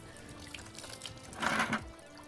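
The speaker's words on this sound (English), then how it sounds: "you see how much water is falling out of that right now?" Water dripping and splashing from a squeezed microfiber towel during a no-rinse car wash in cold weather, a faint trickle that briefly swells into a louder splatter before tapering off.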